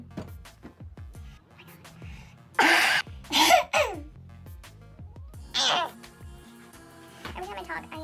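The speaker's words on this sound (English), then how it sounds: "I keep coughing!" Several harsh coughing bursts, close and loud, breaking up a stretch of someone talking.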